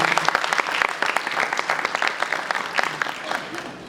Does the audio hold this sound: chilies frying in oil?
no